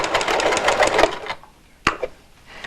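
A sewing machine runs for about a second and a half, stitching a fabric face mask in a quick, close whirring burst, followed by a few faint clicks.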